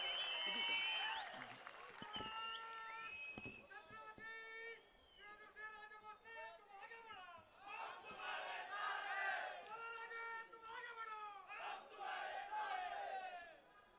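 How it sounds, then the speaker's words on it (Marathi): Loud crowd at a Satara political rally clapping and cheering, with shouted chants and whistles rising and falling over steady applause, voices calling out above the noise. "शिवेंद्रसिंहराजे भोसले यांच्यासाठी जोरदार टाळ्या"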